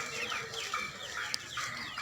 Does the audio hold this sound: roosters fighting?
yes